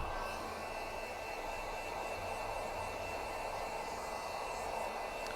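Heat gun blowing steadily on flooring material during an installation, a continuous broadband hiss and whoosh at close range, unbroken for the whole stretch with no talk.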